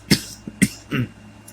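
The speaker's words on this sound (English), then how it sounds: "I was coughing" A few short coughs close to the microphone, two or three sharp bursts followed by a rougher throat-clearing cough.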